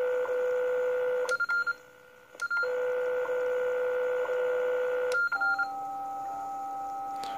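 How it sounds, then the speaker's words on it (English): WWV time signal station picked up near 10 MHz on a Kenwood TS-50S receiver: a steady audio tone that drops out and changes pitch, marked by brief sharp second ticks over faint background hiss. "We'll jump up to about 10 megahertz. There's WWV."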